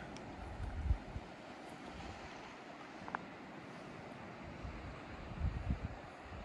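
Ocean surf and gusting wind at Bottle Cove along the Lark Harbour coast in Newfoundland, a steady low wash of waves with wind buffeting the microphone, continuous and fairly faint, no voices.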